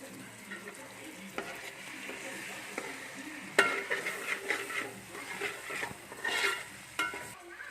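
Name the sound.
frying egg in pan with chilli sauce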